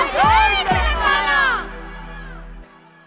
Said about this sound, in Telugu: మధుప్రియకి ఒకసారి గట్టిగా చప్పట్లు